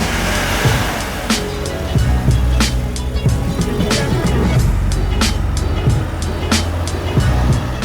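The 3.6-litre flat-six of a 1997 Porsche 911 Carrera S (993 generation) thrums steadily from inside the cabin. The engine note is loud and continuous, with sharp knocks and rattles over it.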